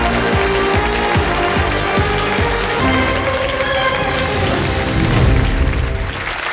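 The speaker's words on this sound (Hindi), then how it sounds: "तालियां बज जाएंगी" A studio audience on an Indian TV quiz show set applauds steadily and loudly for several seconds, a dense wash of clapping with a few sharp low thumps early on, swelling slightly near the end.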